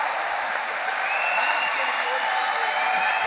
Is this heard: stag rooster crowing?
no